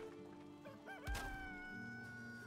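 A hen in the Valheim video game gives a short clucking call midway, fairly quiet, over steady ambient game music.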